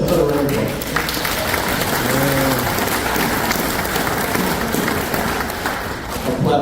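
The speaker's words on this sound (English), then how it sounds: "How about a round of applause?" An audience applauds at a manufacturer's breakfast, steady crowd clapping mixed with voices and chatter throughout.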